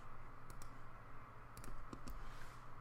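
A few computer mouse clicks in Illustrator, sharp and light, in two quick pairs then a couple more singles, close against a low humming room background.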